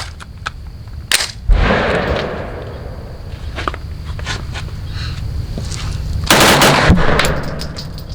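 Sharp, loud reports from a modified FM9 pistol fired rapidly at close range, with a few isolated shots and a tight cluster near the end.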